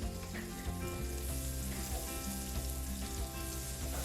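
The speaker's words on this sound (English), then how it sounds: "I'm going to start working on sauteing the onions and the garlic" Onions saute in melted butter, producing a soft, continuous sizzle that sits beneath louder background music, with no talking.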